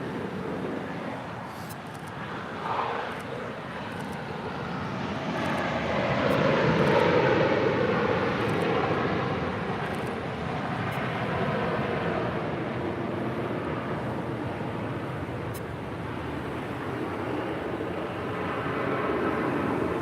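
A jet airliner taxis at LAX, turning right onto taxiway Bravo toward runway 7 Left for departure, its engines giving a steady broad roar that swells midway and holds, heard alone without talk.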